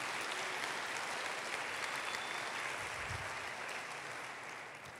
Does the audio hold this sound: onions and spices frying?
no